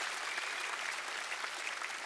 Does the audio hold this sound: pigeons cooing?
no